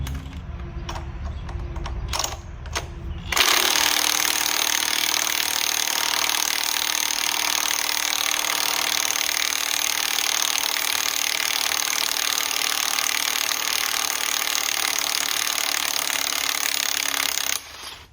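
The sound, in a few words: impact wrench removing harmonic balancer bolts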